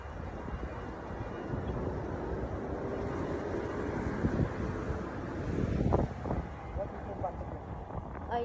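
Steady night wind rushing and buffeting the microphone while walking outdoors in the UAE, a broad low roar that swells briefly near the end, with faint voices mixed in.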